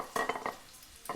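Carrots coated in olive oil, salt and pepper are tossed by hand, making a few soft, close, wet shuffling and clattering bursts against a dish, with quiet gaps between them.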